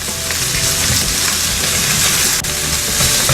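Cabbage and onion stir-frying over high heat in a pan for spicy squid stir-fry, a loud, dense, continuous sizzle with faint stirring scrapes throughout.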